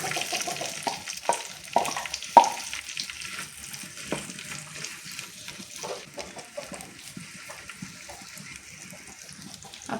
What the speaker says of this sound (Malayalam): ഇനി നമ്മൾ ചേർക്കാൻ പോകുന്ന സവാളയാണ്.